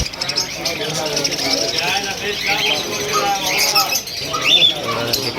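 Busy squawks and chirps from many cockatiels fill the air at a Mumbai pet market, with a person talking over the chatter.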